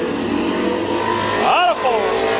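A stock race car at Midvale Speedway roars down the backstretch toward turn 3, a steady loud engine drone with a brief rising pitch sweep, while an announcer talks over it.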